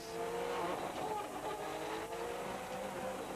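Subaru rally car driving hard at the Punchestown rallysprint in 2003, a loud, close engine roar with tire noise, held steady over a few seconds.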